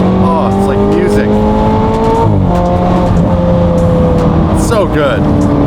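Twin-turbo Ford GT engine revving and downshifting, loud close-up roars with falling and rising pitch at each gear change, mixed with excited voices talking over it.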